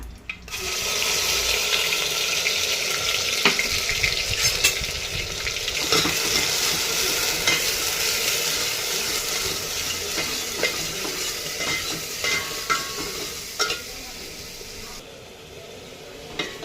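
Homemade ground masala frying in oil in a pan for a Khandeshi village-style chicken curry, a loud, steady sizzle with crackling, scraped by intermittent stirring throughout, with no talk.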